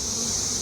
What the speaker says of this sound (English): Dang bees.